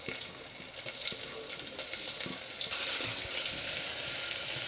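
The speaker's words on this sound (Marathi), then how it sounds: "कांदा छान गोल्डन फ्राय होईपर्यंत तेलामध्ये तळून घ्यायचा आहे" Chopped onion fries in hot oil with cumin seeds, giving a steady, fairly faint sizzle with a hissing, watery texture that grows slightly louder partway through.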